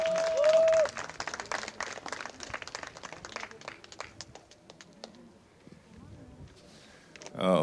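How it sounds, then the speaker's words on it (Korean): An audience at a Korean peace-prayer ceremony applauding: dense, rapid clapping that thins and fades after several seconds, with a voice heard over the crowd. "박수 소리가 적습니다. 크게 해주십시오."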